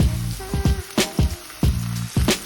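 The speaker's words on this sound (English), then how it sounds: "I'm adding 2 tablespoons of vinegar." Two tablespoons of vinegar hit hot egg fried rice in a pan, giving a steady close sizzle broken by a series of sharp, rhythmic crackling bursts.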